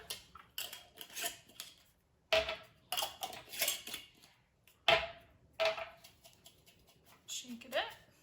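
Plastic lids snap and click onto homemade marinade containers in quick bursts, with handling rattles and taps close by, while a voice talks throughout.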